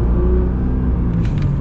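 A Nissan R35 GT-R drives along with a steady low engine rumble and road noise heard from inside the car, continuous for the whole short moment.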